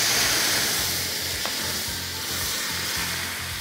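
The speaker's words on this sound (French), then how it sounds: "Il vous suffit de déglacer avec un petit peu d'eau, un petit peu de cognac ou un peu de crème vos sucs dans la poêle." Meat juices are deglazed with a splash of liquid in a stainless steel Cristel pan, a loud, dense, steady hiss of sizzling with faint rhythmic scraping underneath, no voices.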